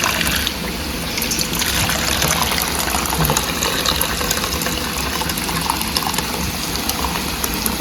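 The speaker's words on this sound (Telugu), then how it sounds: "వేరే గిన్నెలోకి వంచేసుకుందాం." Pepper rasam poured from one pot into another vessel, heard as a steady, close gush of liquid that lasts for several seconds with no speech over it.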